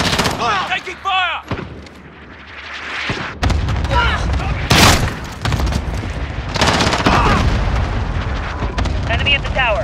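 Rapid bursts of gunfire and heavy booming explosions from Call of Duty: Modern Warfare, loud and dense, with bursts and impacts overlapping. A voice briefly calls out in between.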